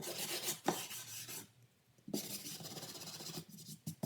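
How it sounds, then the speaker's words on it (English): A steel brush scrapes across wood to texture and weather it, producing close, harsh raspy strokes in bursts separated by brief quiet gaps, with no one talking. "used a steel brush to scrape and texture the wood"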